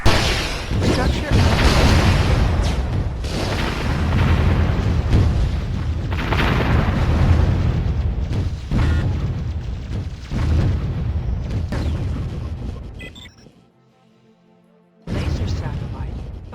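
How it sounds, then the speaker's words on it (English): Laser satellite strikes and explosions in the game Warzone 2100 roll out as a dense series of loud booms and rumbling blasts that drop to near silence before one more burst. A voice speaks over the barrage. "Structure under attack. Laser satellite firing."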